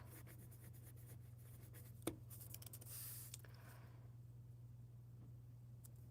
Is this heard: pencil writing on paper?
yes